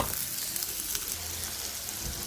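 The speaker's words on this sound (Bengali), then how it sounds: "এখন কড়াইয়ের মধ্যে তেল দিয়ে দিব মাছ ভাজার তেলও দিয়ে দিচ্ছি পেঁয়াজ দিব কাঁচামরিচ দিব" Onions and green chilies fry in oil in a wok with a soft, steady hiss and faint crackle, quiet and close with no talking.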